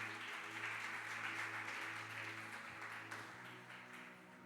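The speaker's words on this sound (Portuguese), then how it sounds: "Pode aplaudir o Senhor em nome de Jesus." A church congregation at a Friday worship service claps for the Lord, a steady, moderately distant wash of applause over a sustained organ-like hum that slowly fades.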